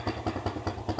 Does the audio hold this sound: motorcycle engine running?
yes